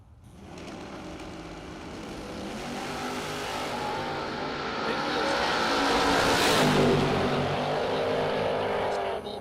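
A Corvette race car at a drag strip burnout box revs its engine, the loud roar building and climbing in pitch toward a peak before easing slightly, while an announcer talks over it.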